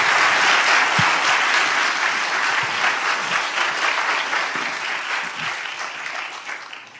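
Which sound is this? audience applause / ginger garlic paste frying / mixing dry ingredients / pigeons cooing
audience applause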